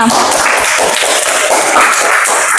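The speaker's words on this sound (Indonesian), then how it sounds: "Beri tepuk tangan untuk temannya." Loud, dense applause from a classroom of students clapping for a classmate, sustained and uniform for nearly three seconds.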